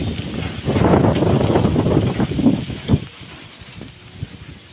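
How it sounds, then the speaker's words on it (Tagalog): Strong wind gusting outdoors at a house construction site, a loud sustained rush buffeting the microphone for the first few seconds, then easing to a softer steady blow with a few sharp knocks. "Grabe ang hangin."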